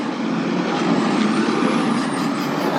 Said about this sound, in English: it wouldn't be a running jackal show without the sound of a garbage truck or a recycle truck